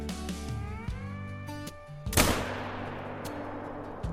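A single rifle shot rings out at a shooting range in theHunter Call of the Wild, a sharp loud crack followed by a long rolling decay, preceded by low steady tones and ambient hum.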